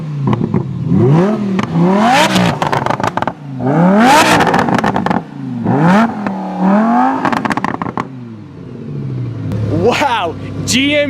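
Supercharged Lamborghini Huracan accelerating hard, engine revving up in repeated loud sweeping surges with crackles between gear changes, while excited voices talk over it.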